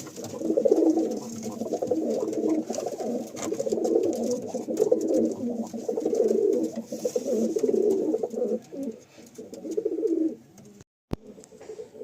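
Pigeons coo steadily in a loft, including a pure white Silegori pigeon, their soft rolling calls overlapping in near-continuous waves for about ten seconds before a brief pause and a few more coos.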